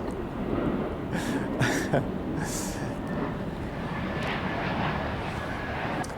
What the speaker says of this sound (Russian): Опять самолеты гоняют тут.